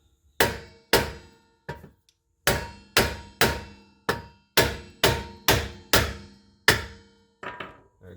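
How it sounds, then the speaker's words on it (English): Hammer blows on a stuck rear brake rotor of a 2016 Honda CR-V AWD during a pad and rotor job: about a dozen sharp, loud metallic knocks in uneven clusters, close up, with no talking. "Give it a couple taps with a hammer."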